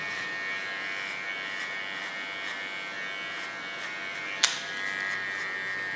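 An electric hair clipper buzzing steadily and quietly close by while cutting hair, a constant even hum with one brief sharp click partway through.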